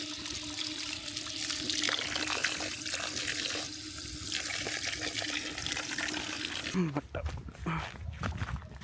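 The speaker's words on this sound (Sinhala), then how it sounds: "ඕක් වතුර පාර යාළුවනේ." A flowing stream of water runs and trickles steadily nearby, with a person's voice speaking over it toward the end.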